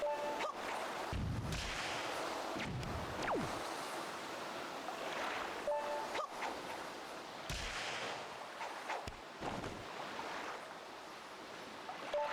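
Cannon fire at sea in the video game Wind Waker HD: several heavy booms go off at irregular intervals over a steady wash of ocean waves and wind. No one speaks.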